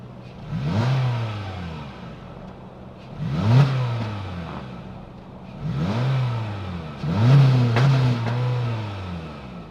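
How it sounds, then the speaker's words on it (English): A 2026 Honda HR-V EX-L with a 2-liter naturally aspirated 4-cylinder engine is revved four times from idle, each rise swelling and falling back to a steady hum, heard alone and fairly close. "let's fire up this 2-liter naturally aspirated 4-cylinder engine"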